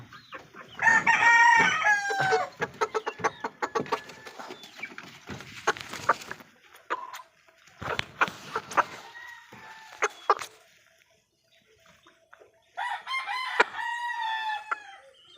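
Chickens, including roughly two-month-old young birds kept after a typhoon soaked the flock, crow and cluck in several close, loud bursts separated by short quieter gaps, with no talking.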